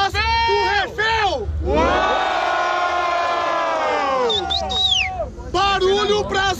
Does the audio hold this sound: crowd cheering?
yes